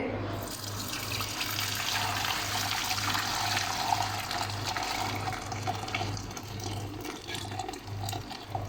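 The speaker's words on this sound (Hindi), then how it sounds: "छलनी से हम यखनी को अलहदा कर लेंगे।" Boiled chicken broth (yakhni) for daleem poured through a kitchen sieve, giving a steady, close, continuous rush of liquid splashing for the whole stretch over a faint low hum, with no talking.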